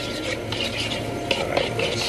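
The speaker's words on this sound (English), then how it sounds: "What we're gonna go ahead and do is stir it up really, really nice and good." A cheese mixture being stirred in a pot on a stove, a steady rasping, scraping rub of the spoon against the pot with small irregular clicks, close and continuous.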